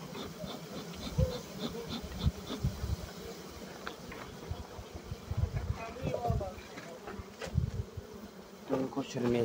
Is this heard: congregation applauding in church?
no